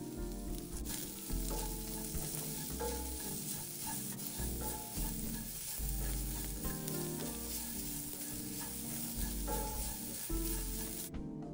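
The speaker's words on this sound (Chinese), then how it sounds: "沥干水分后加入一起爆香，炒至虾米溢出香气，再加入60克胡萝卜丝" Soaked and drained dried shrimp stir-fry until fragrant, then shredded carrot is added. A loud, continuous sizzle runs throughout with scraping stir strokes, close and with no talking.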